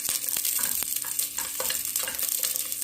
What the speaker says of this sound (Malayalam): നെയ്യ് ഒന്ന് ചൂടായി വരുമ്പോൾ നമുക്കിതിലേക്ക് ഒരു കഷ്ണം ഇഞ്ചി അരിഞ്ഞതും 2 പച്ചമുളക് പിളർന്നതും കൂടി ഇട്ട് കൊടുക്കാം.